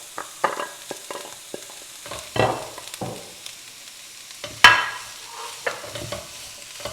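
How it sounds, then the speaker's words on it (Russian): Carrots stew in a pan for stuffed peppers, giving a quiet sizzle under scattered scrapes and clinks of a utensil stirring, with one sharper knock near the middle. "Сейчас мы добавляем сюда морковь. И тушим морковь тоже до мягкости."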